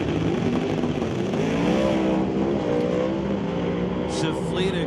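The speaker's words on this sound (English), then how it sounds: "500 cubic inch big block Chevy and a clutch pedal with a gear shift" A doorslammer drag racing car with a 500 cubic inch big block Chevy engine and a five-speed clutch-and-shifter gearbox roars steadily at a racetrack, its engine note rising and shifting under an announcer's continuous commentary.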